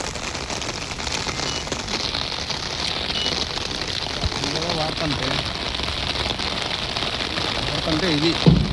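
Rain pouring onto an open police parade ground during a memorial ceremony, a constant loud hiss throughout, with faint voices underneath toward the end.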